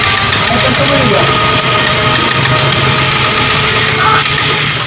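A Yamaha Mio i 125 scooter with low compression struggles to start, giving a loud, close, continuous rough engine churn with knocking vibration throughout and no clean catch into a steady idle.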